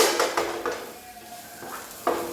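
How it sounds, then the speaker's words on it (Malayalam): A pot of semiya payasam being stirred, with a spoon scraping and clinking against the metal in several short bursts, fairly close and moderately loud, with a quieter pause in the middle. "നമ്മൾ കൈ വിടാതെ ഇങ്ങനെ ഇളക്കിക്കൊണ്ടിരിക്കുക"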